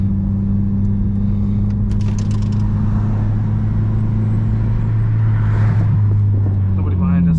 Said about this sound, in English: See if we can do a little pull here, boys